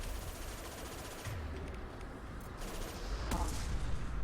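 Sustained gunfire in the sci-fi shooter Mass Effect 2 Legendary Edition, a dense rattle of rapid shots under a continuous battle din, moderately loud and steady with a sharper burst near the end.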